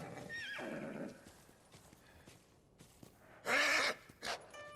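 A horse in a samurai-era video game gives a loud, close whinny, with soft hoof clip-clops and scattered rustling between two neighs.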